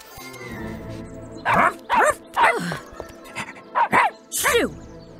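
Cartoon dog barking in a series of about six sharp, close yips and bow-wows with sniffing between them, over a light background score in a kids' dinosaur cartoon.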